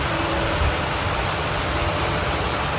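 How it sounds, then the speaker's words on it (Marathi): Light drizzling rain falls outdoors, making a constant, even hiss of fine drops that stays unchanged for the whole stretch. "मस्त रिमझिम रिमझिम पाऊस पडतोय."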